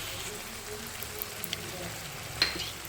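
Okra curry with sour yogurt sizzles in hot oil, a soft steady frying crackle with faint stirring clicks and a sharper pop near the end. No voices.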